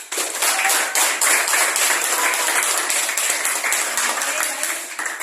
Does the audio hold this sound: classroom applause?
yes